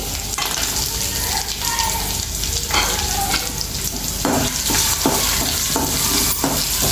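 Cashews and turmeric fry in a pan with a loud, continuous sizzle, overlaid by repeated scraping and stirring strokes close up, with no one talking.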